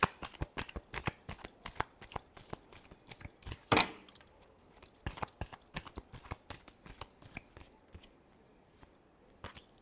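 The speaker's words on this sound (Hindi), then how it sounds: "last shuffle" Tarot cards are shuffled by hand in a quick series of crisp, papery riffles and slaps, close and moderately loud at first, then thinning into lighter, sparser flicks toward the end.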